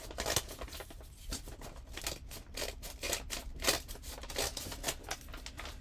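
Scissors cut down the side of a paper bag in a quick series of sharp, close snips and crisp crinkles, repeated rhythmically with no voices.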